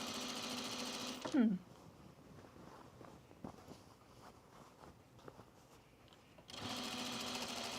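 A sewing machine stay stitches the top edge of pajama bottoms, a loud rapid whirring burst at the start and again at the end, with quieter handling and shuffling noises in the pause between.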